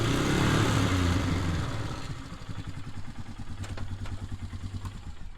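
A 2006 Polaris Sportsman 500 EFI ATV runs in reverse in two-wheel drive with its front wheels trying to turn, a close, steady engine drone with a rough, pulsing clatter.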